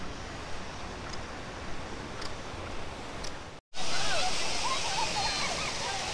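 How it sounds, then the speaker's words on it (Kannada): Edamuri waterfall near Srirangapatna at Yadathittu, full with water, gives a steady broadband roar. After a brief cut it comes back closer and louder. "ಬಲಮುರಿಯಿಂದ ಸ್ವಲ್ಪ ದೂರ ಬಂದರೆ ನಿಮಗೆ ಈ ಎಡಮುರಿ ಫಾಲ್ಸು ಕೂಡ ಸಿಗುತ್ತೆ"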